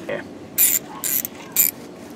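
Thread tap being backed out of a drilled engine block for a 153-tooth starter, giving three short bursts of metallic ratcheting clicks with small creaks between them, close and clear.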